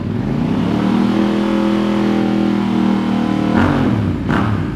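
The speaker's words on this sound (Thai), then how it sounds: "มาฟังเสียงท่อคันนี้กัน" A 2023 Yamaha R7 motorcycle with an aftermarket carbon exhaust idles loudly and close, then is blipped twice, its engine note rising and falling quickly with no voices.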